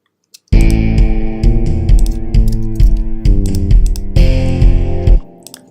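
Heavily distorted electric guitar chords played live through an effects unit, a thick, saturated run of sustained strums changing about every half second, loud and close, cutting off near the end.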